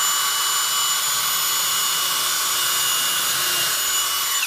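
A power drill whines continuously at high pitch, steady and close, as it bores a pilot hole into wood without pause.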